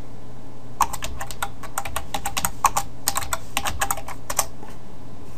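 Someone types a sudo command on a computer keyboard while installing Rails on Linux: a quick run of crisp, close key clicks in irregular bursts with short pauses, over a faint steady hum.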